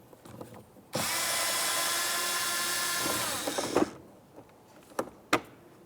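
Power driver with a Torx T27 bit spins out a mirror mounting screw on a 2011-2018 Volkswagen Jetta, one loud steady whir of about three seconds, followed by a few close clicks and taps.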